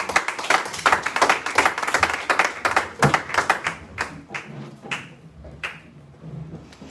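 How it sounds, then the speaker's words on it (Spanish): A church congregation claps loudly and rapidly, then the clapping thins to scattered claps and dies away. "Denle un aplauso a su rey si le dan fuerte."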